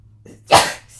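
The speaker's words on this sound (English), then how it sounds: "I'm going to sneeze." A single sharp, loud sneeze bursts out close by after a brief quiet lead-in, then fades quickly.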